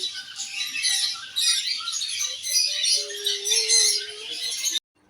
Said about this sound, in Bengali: তাহলে চলো পাখির কিচিরমিচির আওয়াজ শোনা যাক।